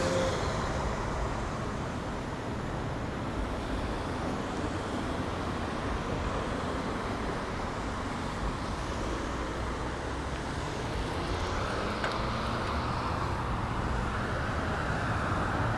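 Car traffic on Southwest 17th Avenue in Miami, heard from a bicycle, makes a steady broadband roadway rumble with a wind-like hiss, moderately distant and unbroken, and no voices over it.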